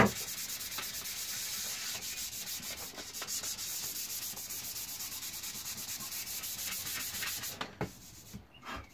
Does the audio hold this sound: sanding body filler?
yes